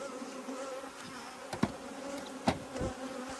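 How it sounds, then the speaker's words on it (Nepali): Honeybees fly around a home beehive, a continuous close buzzing drone with a few louder passes as individual bees zip near. "मौरी उरेको हेर्न सक्नुहुन्छ तपाईहरु"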